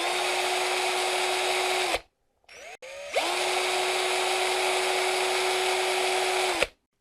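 Parkside 12V cordless angle drill PWBSA 12 A1 spinning with a loud, close, steady high whine for about two seconds, stopping briefly with a few clicks, then running steadily again for over three seconds before cutting off.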